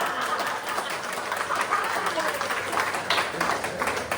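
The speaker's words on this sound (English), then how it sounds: "Can we get a big round of applause for Russ?" Audience applauding Russ at a talk about writing a memoir, a steady wash of clapping from a crowd with voices mixed in underneath.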